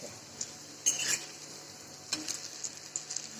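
Spinach vadi deep frying in oil give a soft, continuous sizzle, punctuated by a few sharp metallic clinks and scrapes of a utensil against the pan, close by and moderately quiet.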